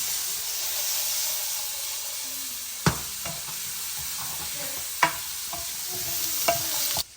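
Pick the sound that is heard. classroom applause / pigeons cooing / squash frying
squash frying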